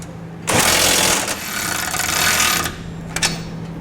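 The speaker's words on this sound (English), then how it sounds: "Next, we'll go ahead and tighten down our hardware that connects the side plate to the cross tube." Power tool tightening trailer hitch hardware, the side plate to cross tube bolts of a B and W heavy-duty receiver on a 2007 Ford F-250, running in one steady loud burst of about two seconds, then a brief second whir.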